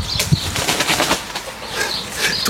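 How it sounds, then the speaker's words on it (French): A turtle dove flaps its wings close by in a garden, a flurry of soft wingbeats with a few sharper claps, fading slightly toward the end. "Tourterelle."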